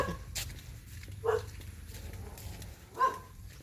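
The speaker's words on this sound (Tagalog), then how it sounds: "Ito yung aso ko." Two separate barks from a dog, spaced about two seconds apart, against a low background hum.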